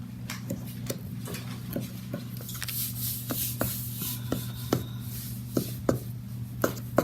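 A knife scoring through layered Turkish su böreği before baking, giving a run of sharp, light ticks and taps at an irregular pace over a steady background hum, close and moderately quiet.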